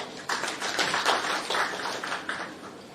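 A crowd at a free heart-therapy screening camp press event claps to welcome patients, a moderately loud, fairly even patter of many hands that starts abruptly and carries on without talk.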